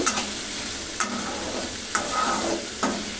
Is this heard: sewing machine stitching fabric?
no